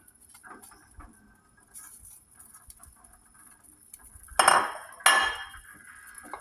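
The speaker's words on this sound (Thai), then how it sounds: "แล้วก็เปิดฝาเพื่อน ใส่เครื่องลงไปค่ะ" A metal pot lid lifted and seasonings dropped into fish soup, quiet kitchen clatter followed by two loud metallic clinks and rattles close by.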